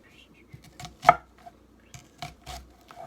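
Knife chopping vegetables into large chunks for homemade chicken stock on a cutting board: several sharp, irregular thuds and taps close by, one notably loud strike, with quiet gaps between cuts.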